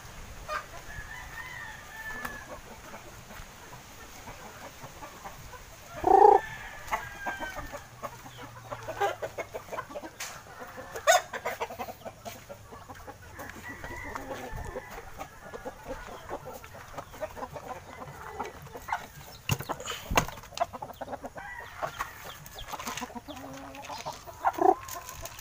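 Black Hulohano chickens at feeding cluck softly and on and off near the listener, with one loud crow early on and scattered calls over a quiet farmyard background.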